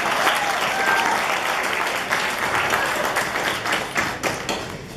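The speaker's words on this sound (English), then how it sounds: "let's give her a round of applause" Wedding guests in Jasper, Canada applaud for a woman being introduced, a dense round of clapping that holds steady and then thins toward the end.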